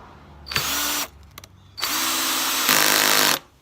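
A Makita cordless drill runs in loud bursts, whining up and then chattering as the clutch slips and clicks, with a short pause between runs.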